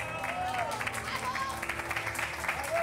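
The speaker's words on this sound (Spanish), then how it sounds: "Un aplauso para ellos." Studio audience applause greeting Luis Pardo and Minerva on a television talk show, a steady crowd clapping with faint vocal tones and music-like lines running underneath throughout.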